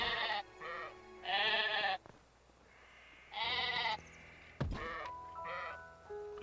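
Sheep bleating in the video game Craftopia, several loud close bleats in a broken sequence with short pauses between, over quiet game ambience.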